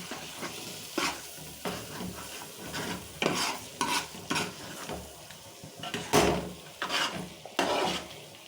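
Chicken biryani rice being stirred in a cooking pot, with repeated scraping and clattering strokes of a spoon against the metal at an irregular rhythm, close and fairly loud over a soft sizzle, no talk.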